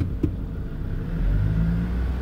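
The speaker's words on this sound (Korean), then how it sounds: "2000 rpm의 특징이 있어요 엔진 소리로 알 수 있어요" A car engine revs to about 2000 rpm, the gear-shift point, during a Korean Class 1 ordinary licence driving lesson: a deep, steady rumble that builds gradually and holds, heard from inside the car.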